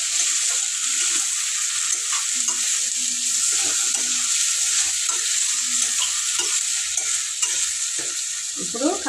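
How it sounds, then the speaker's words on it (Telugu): Washed chicken, seasoned with salt and turmeric, sizzling in a pan for a curry, steady bright frying hiss with repeated scraping stirs of a spoon and occasional clinks, close and continuous, no talking. "ఇప్పుడు చికెన్ వేస్తున్నా."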